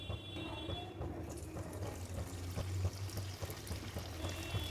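Stuffed onion kachori frying in hot oil in a kadai over a medium flame, giving a steady, dense sizzle and crackle that runs throughout at moderate loudness with no talking.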